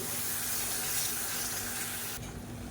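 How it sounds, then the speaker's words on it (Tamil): Water pours into a kitchen mixer grinder jar to rinse it, a steady close splashing rush that runs evenly and then cuts off abruptly near the end. "இப்போ மிக்சி அலசிட்டு கொஞ்சமாக தண்ணி சேர்த்துக்கிறேன்"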